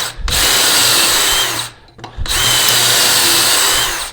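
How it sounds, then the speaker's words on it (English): A power drill boring pocket holes with a Kreg jig into a clamped wooden stool stretcher, two loud sustained whirring bursts separated by a brief pause, close up with no talking. "you can see how you can drill your little holes, your pocket holes"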